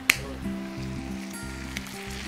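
Buttered shrimps cook with spices in a pan, giving a steady, soft sizzle close by, with a sharp clink near the start and a faint tap later, under a low continuous hum and no talking.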